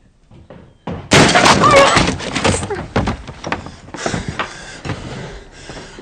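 A wooden door is broken down with a loud splintering crash, followed by scattered knocks, thuds and rattling debris that fade off over the next few seconds.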